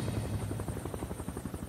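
A helicopter flies over the crash site of Flight 9525, an airliner wreck in mountainous terrain, its rotor chop loud, steady and close throughout the short clip, with no voices.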